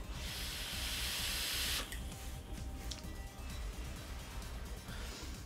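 A steady airy hiss of a vape being inhaled, an e-cigarette loaded with apple and watermelon e-liquid, runs close and even for under two seconds before cutting off to quieter background rustle.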